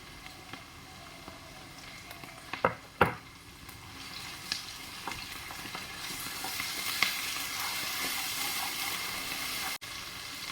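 Ginger-garlic paste and green chillies sizzle steadily in a hot pan with local chicken and giant taro root, a continuous frying hiss with a few sharp crackles and stirring scrapes, close and moderately loud, no talking.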